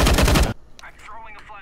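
A short, loud burst of rapid automatic gunfire in a video game cuts off abruptly, followed by faint background voices.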